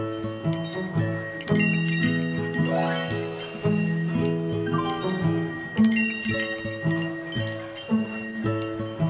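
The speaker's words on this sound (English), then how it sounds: "I'm sure she won't miss these gaudy wind chimes." Gaudy wind chimes jingle in a video game, bright metallic tinkles layered over melodic game music, loud and close.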